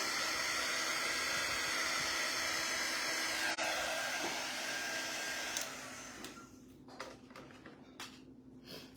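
A hair dryer blows steadily and loud for about six seconds, drying craft paste on a tiered tray, then cuts off and leaves faint handling clicks.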